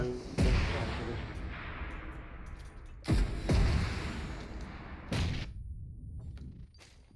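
Grenade blasts in PUBG Mobile, heavy weapons mode: three deep booming explosions a few seconds apart, each with a sharp onset and a long rumbling decay, followed by faint scattered thuds.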